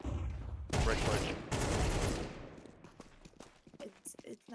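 Bursts of gunfire from the video game Counter-Strike 2, a sustained loud volley in the first half giving way to scattered quieter shots and footsteps, with people talking over the game sounds.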